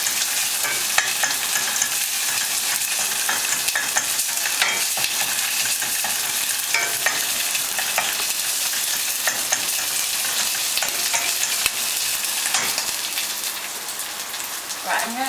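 Onion and spicy paste crackle and sizzle continuously in a pan, with frequent stirring scrapes and spatula taps layered over the steady frying hiss.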